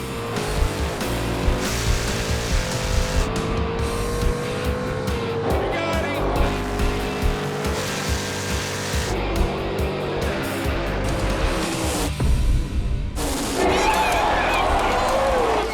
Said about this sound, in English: It's down to the first race of the All-Out 8 at Summit Motorsports Park.